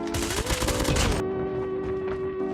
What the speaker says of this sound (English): Here's a demonstration of what the hip fire is like on the gun at close range.